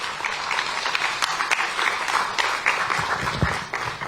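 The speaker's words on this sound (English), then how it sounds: "let's give her another round of applause" An audience at a media report launch applauds after a professor's presentation, producing a dense, crackling burst of clapping that stays fairly loud and steady, with a faint voice briefly heard underneath.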